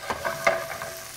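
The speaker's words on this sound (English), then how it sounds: "You can hear that sizzle." Soft, steady sizzling of onions sweating in butter and oil in a pan, with a few light scraping stirs near the start.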